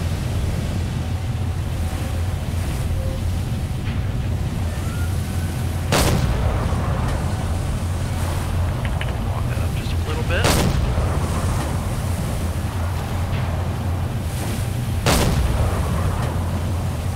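A submarine deck gun firing in the WWII Pacific naval sim Silent Hunter IV: three loud, sharp reports spaced several seconds apart, each cutting through a steady roar of sea and wind, with voices talking in between.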